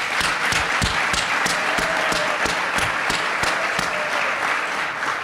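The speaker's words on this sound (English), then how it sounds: "So let's give them a round of applause." A theater audience applauds at a live Broadway season preview event, dense sustained clapping from a large crowd, loud and steady throughout with no speech over it.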